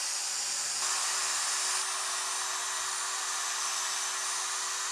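A machine polisher whirs steadily on the painted bonnet of a Ford Ranger Wildtrak, a constant high, hissing drone that stays even and close throughout.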